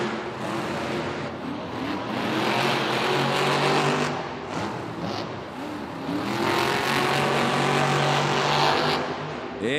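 Monster Jam monster trucks race at an arena event in Los Angeles, their loud engines roaring and revving in two surging waves, with the crowd noise underneath.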